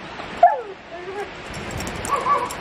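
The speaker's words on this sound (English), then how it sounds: "some adorable puppies running around the backyard" Puppies running around a backyard give a few high yips and whimpers, one sharp yelp near the start, over faint outdoor background noise.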